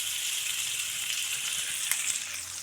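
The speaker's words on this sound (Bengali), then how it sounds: "পেঁয়াজগুলো ভাজার সময় একটু নুন দিয়ে দেব।" Chopped onions frying in a pan with a little salt, a soft steady sizzle close by with a faint tap or stir near the end, heard alone.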